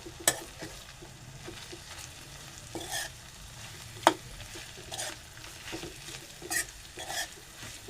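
Ambadi (roselle) greens are stirred and sautéed in a pan, with a soft steady sizzle broken by occasional scraping and clinking of a spatula against the pan.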